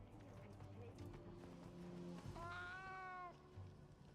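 A palico cat in Monster Hunter Wilds gives a single clear meow partway through, heard over a steady game background of low rumbling and ambient sound.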